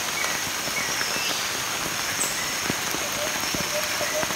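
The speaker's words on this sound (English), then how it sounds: "It's raining." Steady rain falls over a garden of giant bamboo clumps, a dense, continuous patter with scattered sharper drops hitting leaves throughout.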